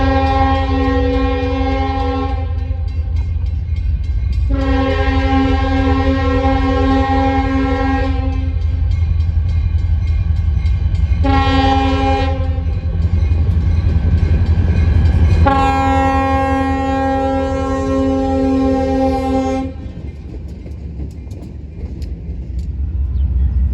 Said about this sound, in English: While not the best angle, or horn, it was still cool seeing an SD40 lead down the main line.